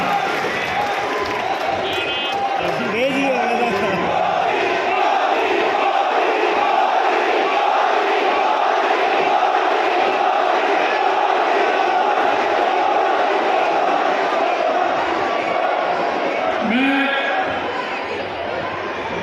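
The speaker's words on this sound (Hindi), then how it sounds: "एक बार जोरदार ताली के साथ माननीय हमारे यशस्वी प्रधानमंत्री जी का स्वागत करना" A large crowd at a political rally in Bhinmal welcoming the Prime Minister, a continuous loud roar of cheering, chanting and clapping held steady for the whole stretch, with a brief amplified voice near the start and end.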